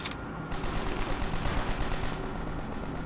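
Sustained automatic gunfire rattles through a Call of Duty: World at War co-op battle, a loud, close, unbroken volley of rapid shots lasting the whole stretch with no talking.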